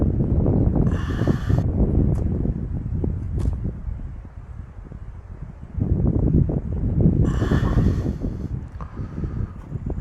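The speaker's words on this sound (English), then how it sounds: "Now, if it wasn't so windy" Strong coastal wind buffets the microphone in loud, rumbling gusts at a waterfall walkway near Seven Mile Beach in Tasmania, swelling and easing over several seconds, with no talk.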